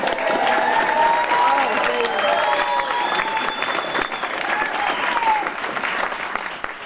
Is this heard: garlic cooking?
no